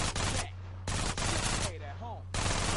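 Bursts of rapid automatic gunfire in GTA San Andreas, micro SMG fire, come in loud volleys with short gaps between them over a steady low engine hum, with brief chirping game effects in the lulls.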